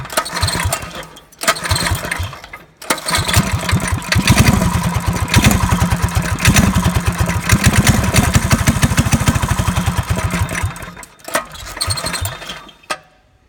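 A Predator 212 small engine fitted with a Tillotson carburetor sputters in short bursts, then catches and runs with a rapid, loud putter that falls back off near the end.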